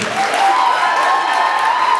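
Brief burst of clapping from Form 4 students at a school retreat, steady and evenly loud for about two seconds, with a faint sustained voice running through it.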